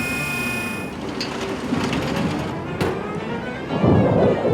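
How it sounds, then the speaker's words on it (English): A deep rumble of thunder rolls beneath a steady wash of broadband noise near an excavator clearing garbage from a riverbed, with a sharp crack partway through and a heavier low surge toward the end. "Thunder and lightning ahead!"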